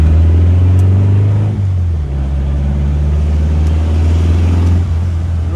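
Volkswagen Beetle (Fusca) engine droning steadily from inside the car in slow, rainy city traffic in Curitiba, a loud continuous low rumble with a slight pitch drop partway through and faint background noise.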